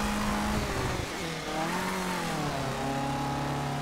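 A Fiat racing car in a Colin McRae: DiRT crossover cup race accelerates hard and holds a continuous engine roar, with its pitch climbing and shifting through the gears. The engine is loud and close, and no one talks.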